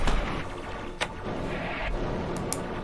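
Gunfire from a science-fiction television episode: a dense, steady battle-like wash with sharp bursts around the second mark and near the end, loud and continuous with no talk over it.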